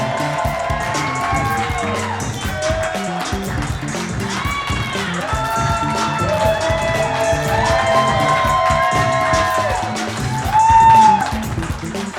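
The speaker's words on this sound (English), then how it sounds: "Let's give them a round of applause." A studio audience at a Cincinnati Bengals show cheers, whoops and claps for guests DJ Reader and Mike Hilton, a busy crowd roar that swells near the end.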